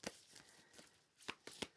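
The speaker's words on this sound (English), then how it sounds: "Really hard to shuffle as well." Soft riffling of tarot cards being shuffled close up, a few quick quiet bursts with short pauses between.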